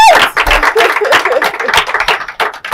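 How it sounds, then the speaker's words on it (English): Crowd clapping and cheering at a praise party for a monarch, a dense, loud burst of hand claps and voices carrying on steadily throughout. "Clap, clap, clap, clap, clap, clap, clap."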